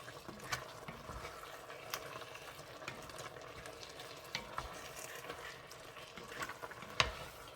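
Small shrimp simmer in coconut milk with taro, meat and chilies for laing, a faint, soft bubbling sizzle with occasional sharp stirring taps against the pan.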